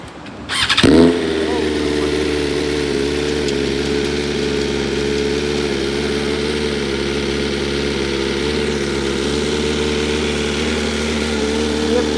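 A BMW S1000 RR sport motorcycle fires up with a sharp burst, then settles into a loud, steady, buzzing idle that holds close to the microphone for the remaining ten seconds.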